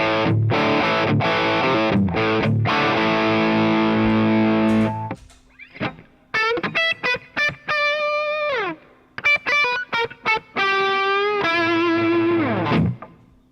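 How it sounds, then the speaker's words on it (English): A distorted electric guitar played through an iRig Stomp I/O with delay and reverb plays sustained chords, then short picked notes that trail off into echoing repeats and a reverberant wash. "you see I have a delay and a reverb on the right side of the chain"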